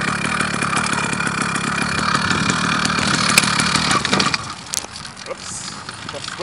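A small 80cc bike motor runs on a test ride with a continuous buzzing, throbbing drone that drops away near the end. A person talks over it.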